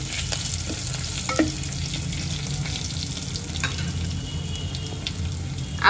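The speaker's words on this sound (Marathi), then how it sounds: "कढीपत्ता घालून घेते मी आता आणि हिंग टाकून घेते।" Curry leaves and asafoetida sizzle in hot oil over a medium flame while a dal khichdi is being cooked. A steady close crackling hiss is broken by occasional spatters and light clinks from stirring.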